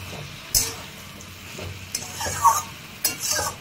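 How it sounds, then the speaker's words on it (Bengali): A mix of fish pieces with onion stalks sizzles loudly in a pan as a little water goes in, with bursts of hissing spatter and stirring scrapes, close and without talk. "এবারে আমি অল্প একটু জল দেব,"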